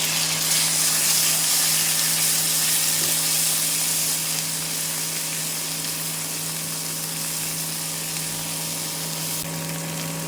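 Chopped onions and tomato sautéing in a pan for a chicken fry, giving a continuous hiss of sizzling oil that stays even and fairly loud throughout, with no voices.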